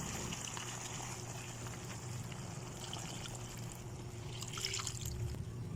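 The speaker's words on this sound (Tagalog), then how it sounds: "ilalagay ko na yung tomato sauce at lagyan ng tubig" Tomato sauce and water pour steadily into a pot of chicken afritada, a soft continuous trickling and splashing, close but faint, with no talking.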